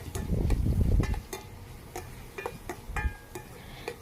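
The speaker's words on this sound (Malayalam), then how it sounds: "മുളക് പൊടി മഞ്ഞൾപ്പൊടി അതുപോലെ ഗരം മസാലപ്പൊടി പിന്നെ മല്ലിപ്പൊടി ഇത്രയും കൂടെ ചേർത്തിട്ട് ഒന്ന് ഇളക്കി കൊടുക്കുകയാണ്" Chilli, turmeric, garam masala and coriander powders being stirred into a tapioca (kappa) dish with a utensil, giving a series of sharp scraping clicks against the pan over a low, busy rumble, close and moderately loud.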